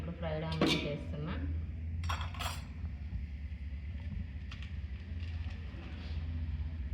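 Fried onions go into a pot of chicken dum biryani, giving light metallic clinks and scrapes of a spoon against the pot over a steady kitchen hum, with a voice talking at the start.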